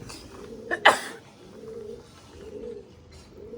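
Andhra pigeons coo in low, soft repeated phrases close by, with a brief sharp flutter or knock early on.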